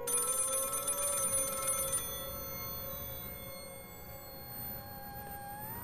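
An old-style telephone bell rings insistently in a horror audio drama, loud repeated trilling for the first two seconds, then fading into a lingering eerie electronic tone alone.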